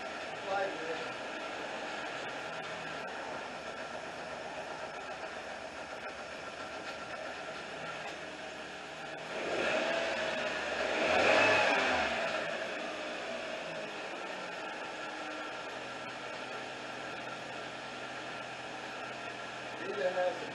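A 2003 Nissan Altima engine idling in gear with a suspected bad spark plug or coil pack, a constant mechanical drone that swells in a louder surge midway before settling back, heard up close.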